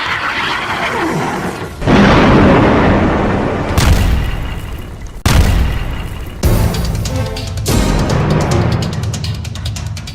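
Israeli bombs strike Hamas tunnels in Gaza in a rapid series of five heavy, booming explosions, each hitting suddenly and loudly, then rolling off into a rumbling decay before the next blast.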